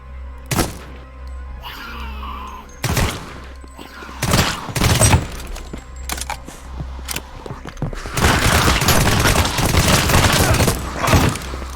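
Gunfire mows down zombies in the video game Deathly Stillness, heard as scattered loud shots with thuds and booms, then a dense sustained burst of rapid fire near the end.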